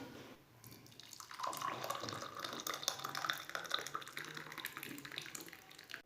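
Egg tea poured into a cup, a soft steady liquid stream running for several seconds, quiet and close.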